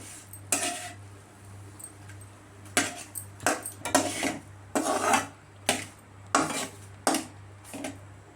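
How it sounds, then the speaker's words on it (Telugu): A spoon stirs and scrapes through an egg dish seasoned with chili powder in a pan, giving a series of sharp metallic scrapes and clinks in irregular bursts over a low steady hum, close by, with no one talking. "ఈ రకంగా వేసుకుని ఒకసారి కలుపుకుందాం"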